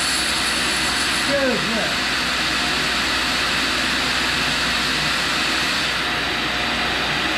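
A tool and cutter grinder resharpens a single lip countersink on a Unicam fixture, its steady broadband grinding roar running loud and continuous throughout, with a brief voice speaking near the start.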